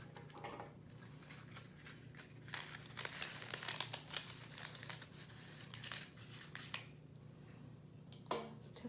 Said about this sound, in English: So we're going to cut our third cupcake liner in half.